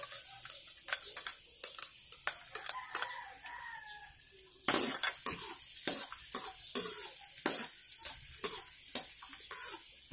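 Garlic sautéing in plenty of hot oil in a pan, crackling sizzle with sharp clattering spoon or spatula strikes and scraping stirs, close and loud in uneven bursts.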